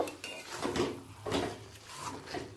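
Garam masala worked into pui shak chorchori cooked with katla fish head and oil in a pan, heard as repeated rhythmic scraping and rubbing strokes of a spatula, moderately close and steady.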